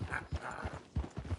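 Hooves of a horse trot in a video game, an uneven clip-clop of soft thuds at a moderate pace, faint and fairly close.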